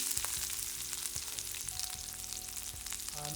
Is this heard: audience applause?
no